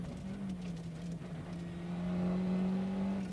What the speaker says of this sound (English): The Subaru is constantly on the rev limiter